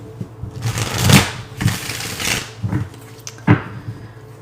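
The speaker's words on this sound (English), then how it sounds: "One more shuffle." Tarot cards being shuffled by hand, a few soft riffling and sliding bursts close to the mic with brief pauses between, no voice.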